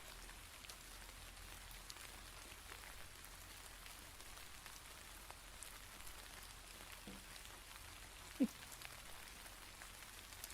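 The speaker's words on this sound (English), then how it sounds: "Yes, it's raining." Rain falls steadily in a video game, a soft, faint, continuous patter with one small knock near the end.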